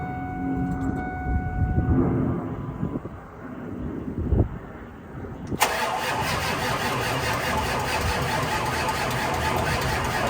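A Ford diesel engine with a blown fuse cranks under a jump box, grinding in uneven bursts for several seconds without catching, then a loud, steady broadband roar of charger or cranking noise takes over close by.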